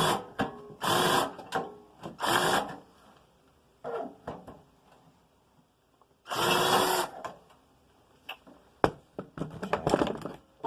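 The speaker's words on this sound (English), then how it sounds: "Back to the screwdriver." A screwdriver working on a Rigid propane hybrid heater during disassembly, with repeated short bursts of ratcheting, scraping and clicking separated by quiet gaps, close and fairly loud.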